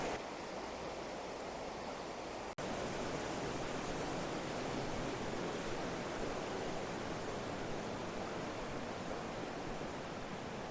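Waterfall and stream water along the Ingleton Waterfall Trail, a steady broadband rushing roar, close and constant, broken only by a brief dropout early on.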